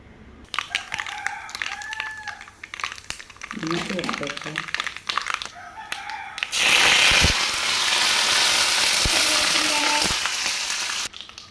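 Mustard seeds drop into hot oil in a home kitchen while chammanthi is being made, breaking into a loud, steady sizzle and crackle close by that follows a stretch of talking.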